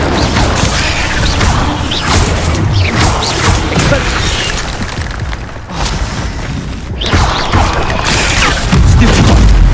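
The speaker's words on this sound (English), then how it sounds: "Incendio!" Incendio fire spell cast during Hogwarts Legacy combat, heard as loud continuous roaring bursts and crackling whooshes over almost ten seconds, with a short dip in the middle before the blasts surge again.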